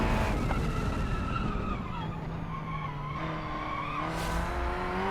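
Car braking hard in BeamNG on a race circuit, tires squealing continuously with shifting pitch over the engine's drone, loud and close.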